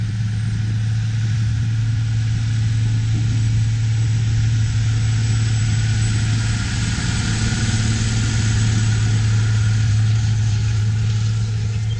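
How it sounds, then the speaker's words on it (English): A Challenger 865C tractor pulling a Great Plains soil finisher on a farm drones steadily and loudly, a constant low rumble with an unbroken mechanical hum and no pauses. "one of their Challenger 865C tractors pulling the Great Plains soil finisher"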